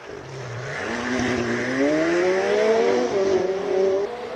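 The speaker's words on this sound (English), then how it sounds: "John Mountain now about to take off in the 720S McLaren." A McLaren 720S launching at a Cape Town hill climb, its engine note rising sharply through the revs as the car pulls away, loud and close, with no talk over it.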